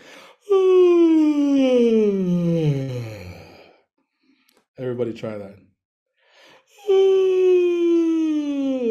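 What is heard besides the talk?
big exaggerated yawn in a vocal workshop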